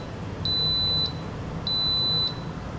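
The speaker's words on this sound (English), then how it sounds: "It's gonna beep." An Instant Pot pressure cooker gives two high electronic beeps, each a sustained tone of about half a second, spaced about a second apart over a low background hum.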